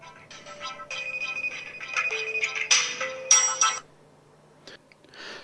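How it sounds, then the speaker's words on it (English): A Nokia N900 rings with an incoming SIP VoIP call, a bright electronic ringtone of repeated melodic tones played close and fairly loud for about four seconds, then cutting off into near silence. "and we're receiving the call."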